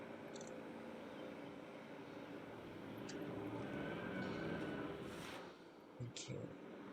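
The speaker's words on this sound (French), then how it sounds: "T'as l'hélico qui arrive." A helicopter arrives in Jurassic World Evolution 3 with a steady, broad engine and rotor drone that swells slightly before easing off, heard under ongoing talk.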